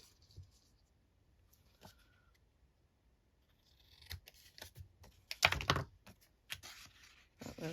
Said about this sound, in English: So we'll just snip them.